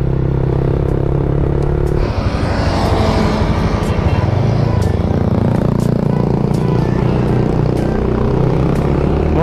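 A modified Honda Vario 125 scooter, built in semi street-racing style, is ridden and accelerates. Its engine note climbs loudly after a brief lull, and a buzzing drone with wind rush continues close throughout.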